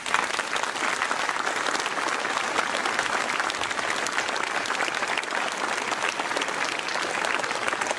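A hall audience at a mayor's New Year address applauds the security forces with sustained, dense clapping at an even level throughout.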